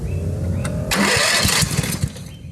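A John Deere STX 46 lawn tractor engine cranks on choke and catches, bursting into a loud, rough run that settles toward a steady idle, with a faint whine before the start.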